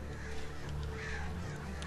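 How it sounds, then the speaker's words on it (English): Crows cawing in the video game Alan Wake as a flock swoops to attack, harsh calls overlapping over a steady low game rumble throughout. "Sudden birds suddenly appear to sneer at me out of the sky and ruin my evening"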